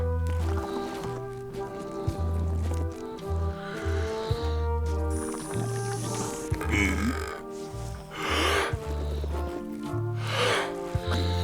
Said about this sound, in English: how about a burping contest?